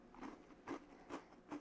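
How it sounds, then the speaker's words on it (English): Crunching bites into a crisp ANZAC biscuit, four faint, short crunches spaced irregularly and heard close up in a quiet room. "you hear that crunch?"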